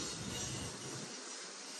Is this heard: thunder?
no